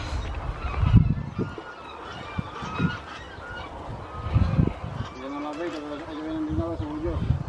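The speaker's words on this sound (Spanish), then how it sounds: "Y ahora le voy a mostrar un poquito de los gansos." Geese honk in scattered bursts while being fed corn on a farm, with a run of nasal honks near the end, heard up close under someone speaking Spanish.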